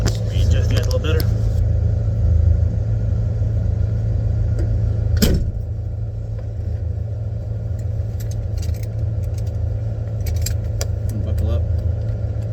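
A 1968 Ford Galaxie 500 engine idles in a steady low rumble from inside the cabin as the car turns around, with a sharp click partway through and faint jingling near the start and end.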